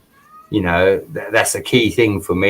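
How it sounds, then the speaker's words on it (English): A cat meows indoors, a brief mewing cry heard near the start before someone speaks over the rest. "they want to come in and start meowing."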